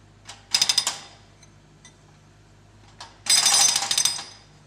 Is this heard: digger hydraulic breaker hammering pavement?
yes